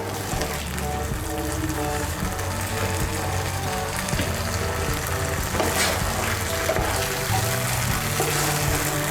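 Chopped green chillies frying in a pan for chilli egg give a continuous, close sizzle that stays steady and dense from start to finish, with no pauses.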